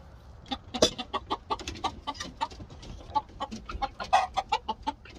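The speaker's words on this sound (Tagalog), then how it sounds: "These growing chickens, the name of the chickens is called Leghorn." Young Leghorn chickens on a farm cluck in a rapid, irregular run of short, close calls with overlapping voices, clear and continuous over faint background noise.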